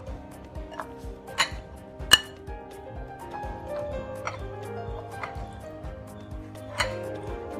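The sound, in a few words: mixing chicken with garam masala and spices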